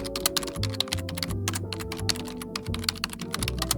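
Rapid typing on a computer keyboard, a steady run of sharp close clicks and taps with brief pauses, over a continuous low musical drone.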